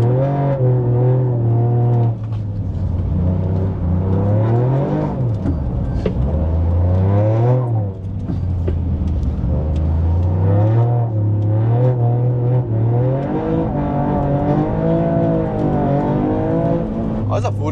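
A race car engine revs hard and repeatedly, pitch climbing and dropping through gear changes, loud and close throughout.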